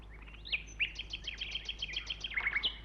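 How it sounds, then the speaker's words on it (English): Nightingales sing from the treetops in a grove, a bright run of rapid, repeated chirps and whistled phrases, fairly close and clear against a quiet background. "All around them, in the tops of the trees, the nightingales were singing."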